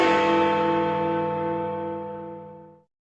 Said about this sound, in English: Did you know that Big Ben is the name of the bell in the clock tower?